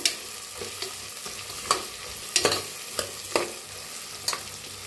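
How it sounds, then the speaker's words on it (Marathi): Peanuts and a soy rice mixture dry-roasting in a pan, with a soft sizzle under a series of distinct scraping stirs and spatula knocks every half second or so, close and alone. "तर छान असं भाजून घेऊया"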